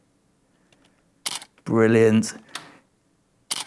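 A camera shutter fires sharply during flash photography, with crisp clicks before and after a short spoken word from a nearby voice, in an otherwise quiet room.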